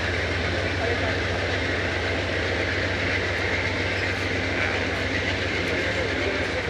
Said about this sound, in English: Our train is speeding to Irvine.